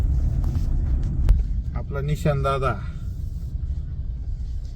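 A car drives along a road at night, its steady low engine rumble running throughout beneath a voice speaking close by.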